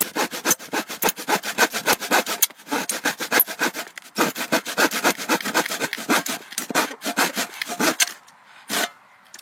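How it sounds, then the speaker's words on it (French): A hand saw cuts through a dry wooden plank at a cabin, with rapid rhythmic rasping strokes, close and clear, slowing to a few final strokes near the end. "ça normalement c'est du bois assez simple à scier, hein, parce que les planches elles sont sèches et tout"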